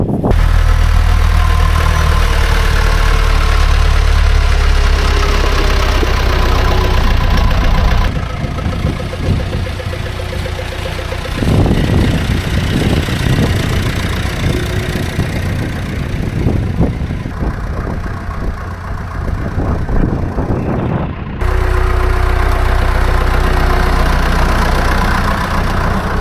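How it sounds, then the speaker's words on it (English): A 165 tractor engine runs with a loud, low idling rumble, dipping and roughening in the middle before returning to a steady drone. "I think probably the best tractor for that job is the 165."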